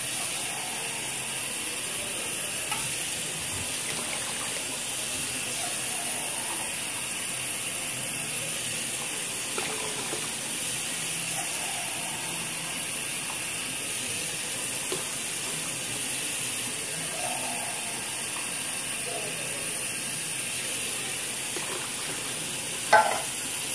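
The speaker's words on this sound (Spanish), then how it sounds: "Ahora que está hirviendo, le vamos a agregar el arroz." A large pot of water with canned pigeon peas boils for party-sized moro de guandules, giving a steady, dense hiss and bubbling that runs unbroken throughout, close and fairly loud.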